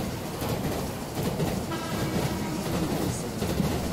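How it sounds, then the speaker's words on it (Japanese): A Japanese train pulls into a station platform with a steady rumble and rattling wheels that holds throughout, with no voices over it. "電車が到着いたします"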